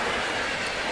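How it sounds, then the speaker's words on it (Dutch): An Interregio train from Aachen to Leipzig passes through Herzogenrath station with a loud, close, continuous rushing roar. "vanuit Aachen naar Leipzig. En de interregio's die stoppen niet in Herzogenrath."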